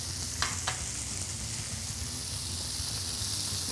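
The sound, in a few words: vegetables and mushrooms sauteing in a pan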